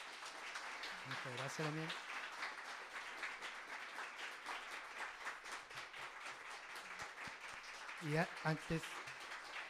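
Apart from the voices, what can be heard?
applause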